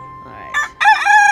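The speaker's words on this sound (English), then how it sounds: "Little punk rock rooster." A rooster crows loudly and close by, a brief opening note followed by a long, strained cock-a-doodle-doo with no other sounds.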